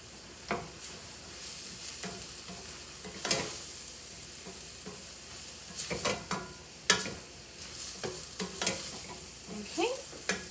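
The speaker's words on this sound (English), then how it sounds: "this helps continuing to saute and get things cooked down without letting anything burn at such a high temperature" Vegetables for minestrone sauté in a pot over high heat, a steady close sizzle broken by repeated clattering stirs and scrapes of a utensil against the pot, with no one talking.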